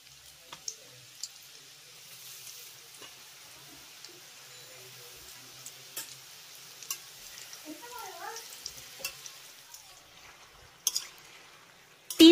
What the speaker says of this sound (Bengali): এই আলুগুলোকে গরম তেলের ভিতরে ভেজে নিতে হবে 3 থেকে 4 মিনিটের মতো সময় নিয়ে